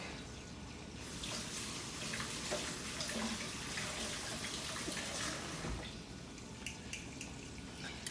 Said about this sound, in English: Let me wash off the spoon real quick.